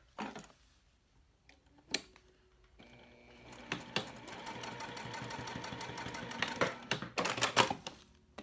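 A sewing machine stitches vinyl card slots for a tall wallet. Scattered handling clicks come first, then a steady mechanical chatter of the needle running for several seconds before rapid taps near the end.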